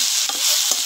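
Chopped watermelon rind vegetables sauté in a pan with a bright continuous sizzle, broken by two quick stirring scrapes, close and fairly loud.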